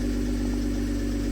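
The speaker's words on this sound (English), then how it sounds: "The exhaust sounds so good" A rebuilt Toyota Supra engine idles with a steady, deep exhaust rumble. It sounds close and loud and continuous, with no voices over it.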